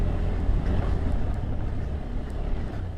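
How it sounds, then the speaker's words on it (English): Steady, dense rushing noise of a KTM Adventure 390 motorcycle splashing through water off-road, with engine rumble and wind buffeting throughout. "Splashing water is so much fun."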